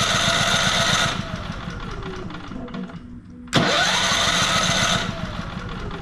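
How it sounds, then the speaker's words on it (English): A Firman generator with its choke open cranks over in two long bursts of about a second and a half each, close and loud, with a brief quieter gap between them. "we're going to open the choke, wake up the battery, and try and start it like this"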